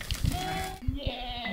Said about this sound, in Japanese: 毎日こうやって ヤギと羊を放して